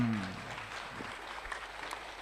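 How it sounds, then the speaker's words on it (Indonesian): An audience at an Islamic religious talk claps in a dense, steady patter after a brief voice at the start, the applause continuing evenly at moderate distance. "Tepuk tangan dong."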